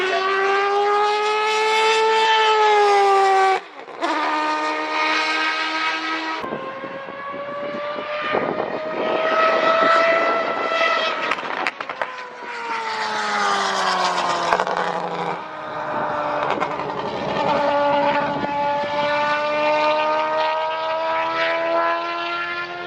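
Audi R8 LMS Ultra race car with a V10 engine roaring past at a time attack event, loud rising and falling wails with gear shifts and a sustained howl over about twenty seconds, no voices.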